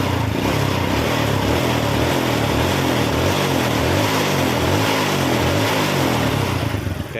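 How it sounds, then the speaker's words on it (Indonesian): A Honda Supra X 100cc motorcycle engine running loud and close after a repair, a steady rough putter with a throbbing low pulse and no clear rev peaks, heard alone. "Yang jelas ini untuk langsam sudah enak, dan untuk gas-gasan juga responsif."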